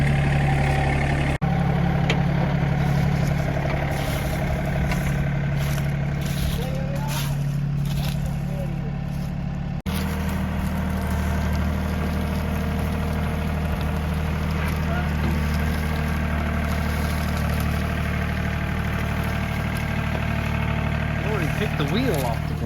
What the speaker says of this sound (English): Now it's time to start moving some vehicles around and getting them parked where we want them.